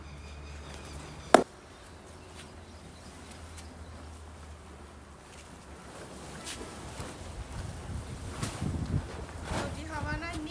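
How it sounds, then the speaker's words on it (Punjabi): Wind rushes outdoors with a rough, buffeting roar that builds over time, after a single sharp knock near the start. "ਬਹੁਤ ਜ਼ਿਆਦਾ ਹਵਾ ਚੱਲ ਰਹੀ"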